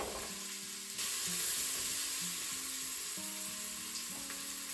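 Onions and leeks frying in a Crockpot Express multicooker, a steady loud sizzle that jumps up as the vegetables go in, with intermittent beeps from the appliance over it.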